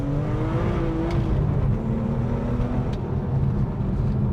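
A supercharged BMW E46 M3 pulls hard along a bendy road, its engine note climbing in a steady rising whine over a dense low roar, heard from inside the car throughout.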